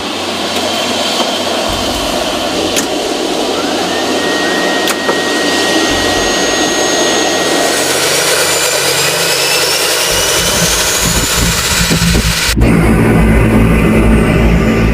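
Steady, loud engine drone from an amphibious aircraft used by the Malaysian maritime agency, a continuous roar with rising whine tones throughout and a sharp shift in character near the end, no voices.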